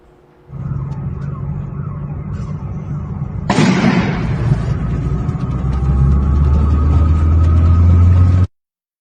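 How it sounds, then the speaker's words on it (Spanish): Car bomb explosions in Quito, Ecuador: a sudden loud blast breaks over a steady rumbling background, followed by a sustained roar and deep low rumble that persists until the sound cuts off. "el señor Javier Gavino está asustado con estas explosiones"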